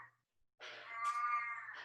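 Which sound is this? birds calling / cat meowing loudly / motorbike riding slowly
cat meowing loudly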